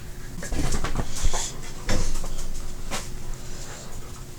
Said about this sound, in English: I'm gonna go get Apollo, the dog I'm babysitting because he's crying upstairs